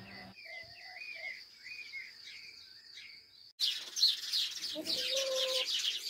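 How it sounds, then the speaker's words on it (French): Birds chirp and trill in bright, repeated calls, with a louder, denser burst of birdsong crowding in partway through. "avec les oiseaux, on ne s'entend plus là"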